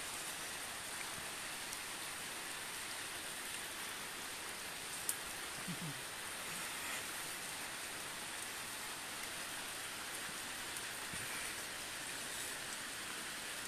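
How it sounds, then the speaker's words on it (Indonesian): Heavy rain falls steadily over floodwater in Martapura, a dense, even hiss that holds for the whole stretch with no talk over it. "Ini hujan dar-dar-dar"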